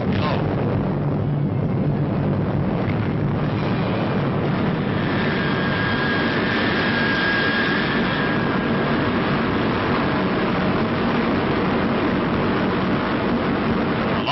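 An Atlas rocket launching the Midas missile-detection satellite, a steady, dense roar with a faint rising whine, continuous and loud throughout, with a narrator's voice partly audible.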